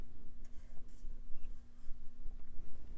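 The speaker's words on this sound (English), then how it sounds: "So let's try to tape it down." Painter's tape pulled and pressed down to hold a disc on the spindle of an iMac G4 optical drive, soft close rustling and scratchy rubbing in uneven bursts over a faint steady hum.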